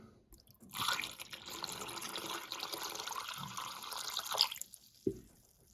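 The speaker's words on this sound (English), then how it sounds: "I'm just gonna try and pour it right down into that drain" Homemade drain cleaner solution pours steadily down a bathroom drain, a continuous splashing, gurgling stream lasting several seconds at close range before stopping with a brief clunk.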